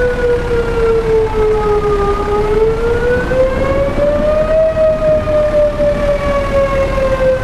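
In a Roblox storm-chasing game, a tornado siren blares at full volume with one long, steady wail, its tone sagging and then climbing in slow sweeps over several seconds, with no talking.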